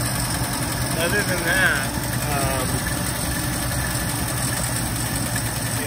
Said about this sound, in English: if I put the choke all the way down, we're idling pretty nice and we're pretty quiet, so it sounds okay.